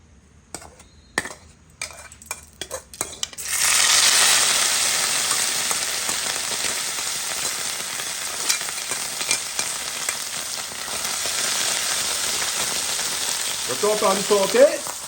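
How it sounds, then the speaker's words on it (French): Crumbled snook fish hits hot oil and breaks into a loud, steady sizzle that holds from a few seconds in to the end, after some quiet clatter of pans and utensils at the start. "L'huile est chaude. Je mets le snook émietté."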